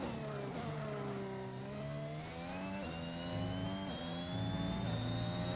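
Formula 1 car engine in the F1 2021 racing game, a high, continuous whine that climbs steadily in pitch as the revs rise, with brief dips at gear shifts, heard alone without talk.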